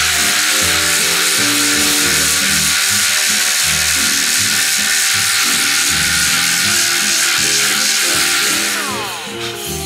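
Power sander grinding across a dented Mercedes-Benz S500 body panel during collision repair, a loud continuous buzzing whir with a fluctuating hum, close and steady, easing off just at the end.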